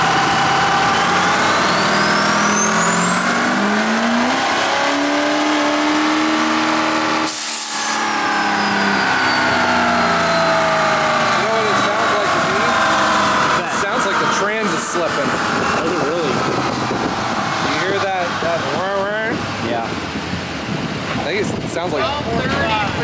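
A Duramax diesel truck engine roars at full load on a dyno, its pitch climbing in long sweeping harmonics, cutting briefly, then revving again with rising and falling whine; loud and close, with voices over it.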